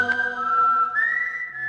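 A clear whistled tune from an Indian film, a single sustained melodic line that bends between a few pitches, heard close and alone.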